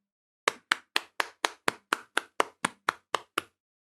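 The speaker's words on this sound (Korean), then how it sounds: "우리 하나님께 영광의 박수 돌리겠습니다" A Sunday church congregation claps in unison, about a dozen sharp, evenly spaced claps in a steady rhythm, close and clear, then stopping abruptly.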